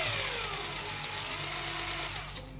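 A small Ryobi Adventure XS 600 electric fishing reel whirs at full speed, giving a steady high mechanical whine up close that slows and fades near the end.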